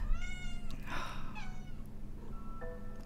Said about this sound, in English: God forbid I film anything without my cat getting in the way.